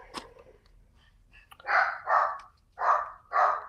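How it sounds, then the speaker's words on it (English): Several dogs bark in a quick run of four or five sharp barks, close by, after a brief quieter moment. "Guys, stop barking."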